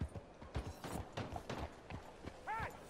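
A horse's hooves clip-clop in steady rhythm on a town street in Red Dead Redemption 2, fairly close and soft, with a short whinny-like call near the end and faint voices in the background.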